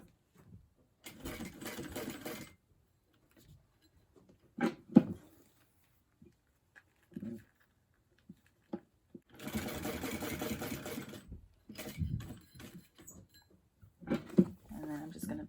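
A sewing machine stitches fabric for a bag, running in several bursts of a second or two, the longest around two seconds, with pauses between them and a voice talking in the gaps.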